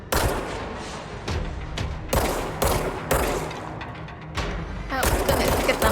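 Rapid bursts of gunfire in the video game Control, aimed at floating guards, with loud repeated volleys and sharp shots in quick succession and no talking.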